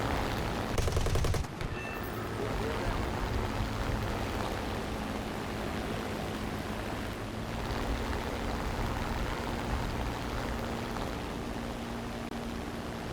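Sustained machine-gun fire from a Spitfire Mk IIb in a flight combat game, a dense continuous rattle at the start that gives way to a steady engine and wind roar running throughout.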